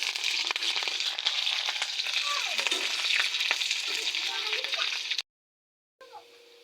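Chopped onions frying in hot oil for a mutton curry, a loud, dense, steady sizzle with occasional stirring scrapes, close by, cutting off abruptly near the end before a faint return.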